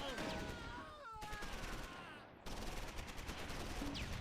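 An 88 gun firing at tanks in the Close Combat video game, a dense barrage of sharp gunfire cracks over a constant loud battle rumble, with a sudden jump in intensity partway through.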